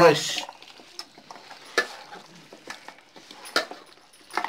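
Spicy village-style chicken being stirred in a new clay pot, with scattered scraping and knocking strokes, a louder clatter at the start, close by and moderately loud under faint background noise.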